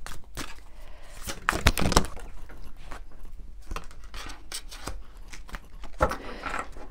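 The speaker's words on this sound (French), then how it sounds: "on va prendre quelques cartes du tarot des anges" Angel tarot cards being shuffled and drawn by hand, heard as a continuous soft riffling and rubbing of card stock, close by, with a few sharper slaps and flicks standing out.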